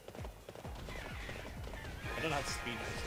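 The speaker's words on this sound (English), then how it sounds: "I'm on a horse!" Galloping horse in the video game Hyrule Warriors: quick repeated hoofbeats form a steady clip-clop rhythm, joined near the end by a loud whinnying neigh, with a voice talking over it.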